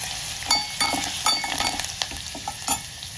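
Turmeric is stirred into a sizzling tempering of garlic and curry leaves, continuous close frying hiss with spoon scrapes and taps at irregular intervals.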